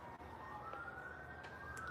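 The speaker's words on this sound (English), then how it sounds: "You hear those sirens?" Distant sirens wail steadily outdoors, a single drawn-out rising and falling tone heard faintly over low background noise.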